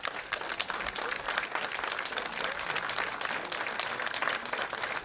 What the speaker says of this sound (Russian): Пожалуйста, ваши аплодисменты.